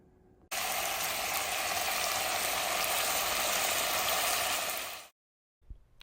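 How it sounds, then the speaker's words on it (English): Seasoned chicken sizzles hard in a hot pan, a bright, steady crackling hiss that starts abruptly, holds loud for several seconds, then cuts off into silence. "Oh, that sizzle is so good."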